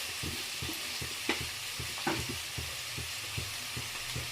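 Onions frying with turmeric in a pan for gongura chickpea curry, a steady sizzle punctuated by regular rhythmic scraping stirs and a couple of sharper clinks, close and clear.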